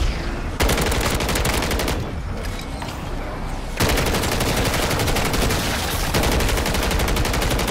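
Rapid automatic gunfire from a Modern Warfare 3 zombies match: dense, loud bursts of shots run almost continuously, with a brief lull near the middle before heavy firing resumes, and a faint voice underneath.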